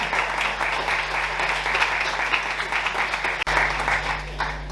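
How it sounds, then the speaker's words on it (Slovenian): Audience applause at a book award ceremony, steady dense clapping throughout, close and loud, with no talking. "Dajmo še en aplavz, prosim, dajmo še en aplavz za statistiko za začetnike."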